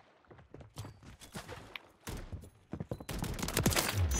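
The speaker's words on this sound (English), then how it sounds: "This shotgun is crazy, dude." A full-auto shotgun blasting in Call of Duty MW3, rapid loud repeated shots in quick bursts with a dense barrage near the end, no talking.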